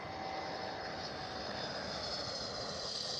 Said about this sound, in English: Transavia A321 Neo